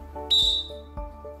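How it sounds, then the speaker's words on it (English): A referee's whistle blown once, a loud, shrill, steady blast lasting about a third of a second, followed by quieter thumps and low background hum. "I've got different whistles here with me. These whistles have different tones."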